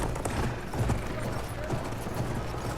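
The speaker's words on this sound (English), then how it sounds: "It's an enemy horse." An enemy horse gallops in the video game Battlefield 1, its rapid hoofbeats clopping steadily amid game noise.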